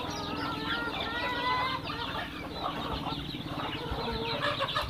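A flock of native Bisaya chickens clucks and chatters continuously nearby, overlapping calls in a busy, steady farmyard din.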